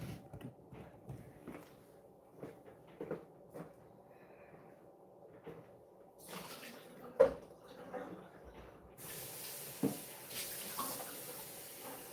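Tap water runs while a pet's drinking water is changed indoors, a quiet steady hiss that swells near the end, with faint clunks and knocks from a bowl or cupboard.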